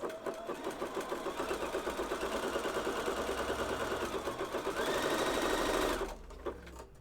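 A sewing machine stitching elastic onto women's underwear, a close rapid mechanical chatter running steadily for about six seconds, rising a little near the end before stopping, then a few faint handling sounds.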